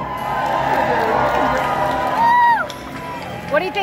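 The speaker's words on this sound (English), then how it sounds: "Raise a cheer." Group of people, including children, cheering and whooping at a birthday gathering, a lively burst that peaks then fades, with shouts and voices mixed in.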